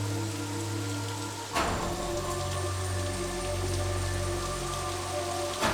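Heavy rain pours down steadily in a film scene, a dense, even hiss of drops beating on surfaces, with a single sharp crack-like burst partway through and a low rumble underneath.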